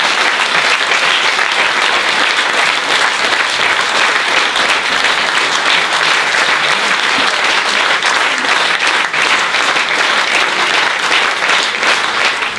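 Theatre audience applause at a Hungarian premiere of a drama, dense, loud clapping from a full house that runs steadily without a break for over twelve seconds.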